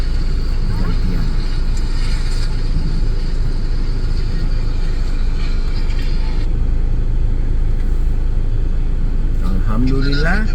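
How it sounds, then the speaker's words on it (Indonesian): Cars roll off a ferry one by one at Bakauheni port, a low engine rumble and vehicle drone steady under the ship's hum, with a person talking now and then. "Nih, mobil sudah mulai keluar satu persatu."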